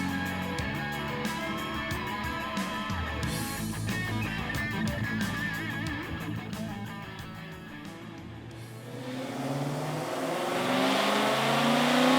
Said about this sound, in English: We're here with a 1987 Ford Mustang GT with a Coyote swap and one of our VMP Gen2R supercharger kits.